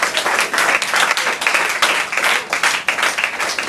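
A church congregation applauds in a dense, continuous wash of many hands clapping, loud and sustained throughout with slight surges, with no voice standing out.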